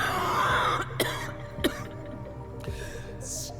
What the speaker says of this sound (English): She breaks into another cough and collapses onto one knee.